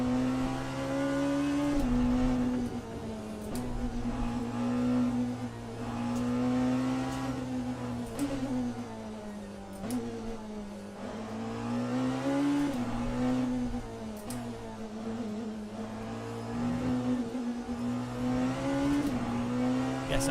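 Porsche race car engine in the racing simulator Le Mans Ultimate, a steady loud engine drone with pitch rising and falling through gear changes across the whole stretch, with brief sharp shifts and no talk.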